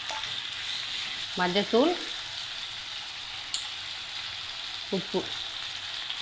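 Onions and tomatoes sizzle steadily in a pan for a spicy greens tamarind chutney, a soft continuous frying hiss under a voice speaking briefly twice.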